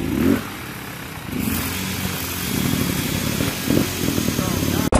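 Dirt bike engine giving a light blip of throttle during a pivot turn, a low steady motor drone that swells briefly near the end, with someone talking over it.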